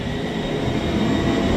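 Vacuum cleaner sucking dirt off an insulated shed ceiling, a loud, steady, close rushing roar with no breaks or talking.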